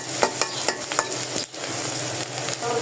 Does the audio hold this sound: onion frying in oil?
yes